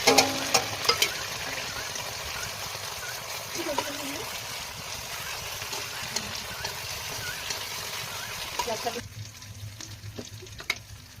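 Oil sizzles and hisses steadily in a hot kadai as masala preparation begins, with a bright continuous frying crackle and a few clinks of utensils before it drops away near the end, a voice talking over it.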